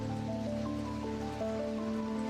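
Steady rain from the eldritch puzzle game Strange Antiquities, an even, continuous patter at constant loudness, layered under sustained ambient musical tones with no talking.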